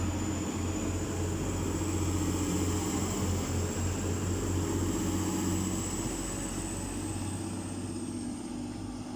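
A TransPennine Express Class 185 diesel unit, 185 107 coupled with 185 119, pulls away from a station bound for Manchester Airport, giving a steady loud engine drone with a high whine that holds throughout and eases slightly at the end.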